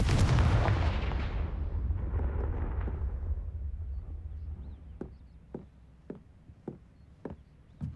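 A Confringo blast spell from Hogwarts Legacy erupts in a loud, rumbling explosion that slowly fades over several seconds, followed by a series of short, sharp crackling impacts spaced roughly evenly as debris settles.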